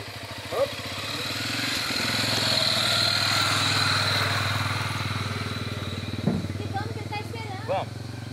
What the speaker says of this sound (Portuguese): A moto para, bem.